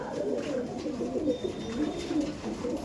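Kaldom pigeons in a loft give soft, low, continuous cooing, moderately close with faint room noise and no talk.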